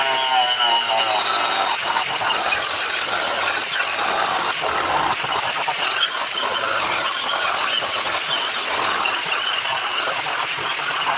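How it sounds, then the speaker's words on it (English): A woodworking power tool cuts into a wooden base for a 125 lb anvil, giving a continuous high, screeching whine with rough grinding texture and small fluctuations as the blade bites the wood, close and loud with no talking. "Now we're just going to take our woodworking tool and cut it away."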